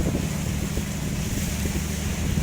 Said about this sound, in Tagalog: Lakas pa ng hangin daw ngayon.